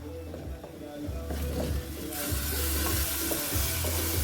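Spices and Himalayan salt being stirred together in a hot pan for vegan achari tikka, giving a steady sizzle with scraping strokes of a utensil that grows louder and denser partway through.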